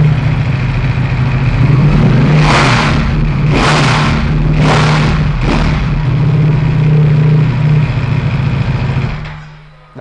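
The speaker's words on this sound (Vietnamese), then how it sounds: "Huy sẽ nẹt bô thử cho các bạn nghe nha." A Ducati Panigale V4S on its stock exhaust sits at a close idle, then gets four quick, loud throttle blips in a row before settling back, and the engine cuts off near the end.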